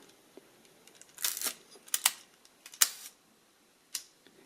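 Quiet mechanical clicks from an Olympus 35 SP film camera with a leaf shutter, a handful of soft separate snaps and handling ticks spread over a few seconds against near silence.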